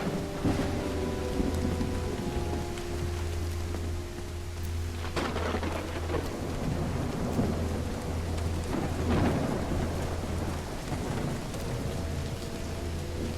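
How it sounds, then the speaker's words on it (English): Video game sound: steady heavy rain pours throughout while a loud crack of thunder breaks out and rolls on, with a low constant hum underneath. "It's raining cats and dogs here."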